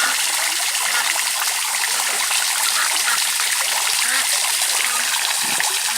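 Water runs steadily into a bottle as it fills, a loud, continuous splashing gush from start to finish with no pauses.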